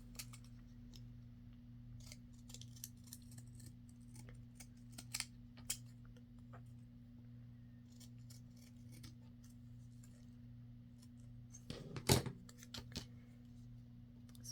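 Scissors cutting a collaged index card: a few sharp, close snips scattered over quiet room hum, with a louder rustle of handled paper near the end.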